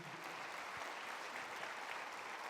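A church congregation applauds during a Spanish-language worship service, steady even clapping heard from a slight distance, moderately faint and continuous throughout.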